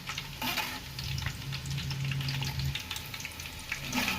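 Moong dal frying in hot oil, being stirred with a spoon: a continuous close crackling sizzle with scraping and clinking from the spoon, at a moderate level.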